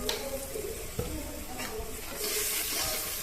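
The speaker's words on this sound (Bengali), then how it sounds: "ভালো মতো কষিয়ে নিতে হবে" Pumpkin with malabar spinach, turmeric and salt being stir-fried in a pan: a continuous near sizzle broken by spatula clacks, swelling louder in the final second.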